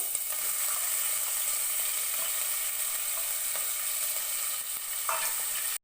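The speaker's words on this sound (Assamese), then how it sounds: "এতিয়া পিয়াজ আদা নহৰু পেষ্টখিনি দি দিব" Onion, ginger and garlic paste sizzles in a hot pan while making jeera rice, a close, steady hiss with occasional faint stirring clicks and no voices.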